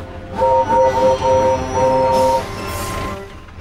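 A cartoon diesel engine from Thomas & Friends passes, sounding a loud two-tone horn in several sustained blasts over rumbling wheels, then fading into a lighter rattle as it goes by.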